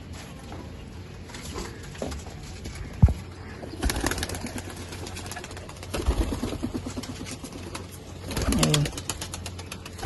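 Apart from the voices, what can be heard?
pigeons cooing after being let out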